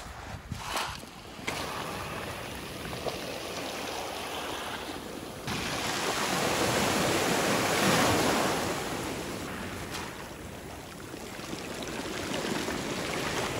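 Surf breaks on a stony beach in Hualien, Taiwan, a continuous roaring wash that swells and recedes, with gusty wind buffeting the microphone.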